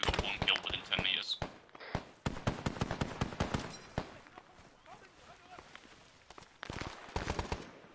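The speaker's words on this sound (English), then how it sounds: "Shots coming in from January" Gunfire in a video game, rapid bursts of sharp shots in quick clusters with a few gaps, mixed with distant pops and explosions, heard under quiet in-game chatter and commentary.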